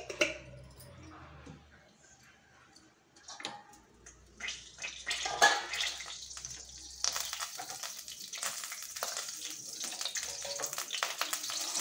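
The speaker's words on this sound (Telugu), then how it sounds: "దీనిలో నేను జీడిపప్పు వేస్తాను." Cashew nuts frying in oil in a pan while making beetroot pachadi, a steady sizzle that swells and turns denser partway through, with light stirring scrapes, close and moderately loud.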